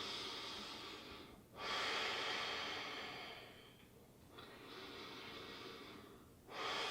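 Slow, deep breaths from a yoga instructor holding a crescent lunge, three long airy exhales with sharp inhales between, close and steady with no talking.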